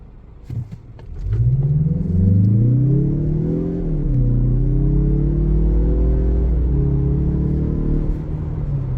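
A 2023 Mazda CX-30 Turbo with all-wheel drive launches at full throttle in sport mode. The engine roars loud and close, climbing in pitch, dipping briefly at a gear change, then pulling strongly again through the rest of the run.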